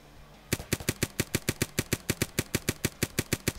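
Rapid paintball gun shots in the video game Renegade Paintball fire as a sharp, evenly spaced burst of about twenty close, loud pops after a brief quiet start.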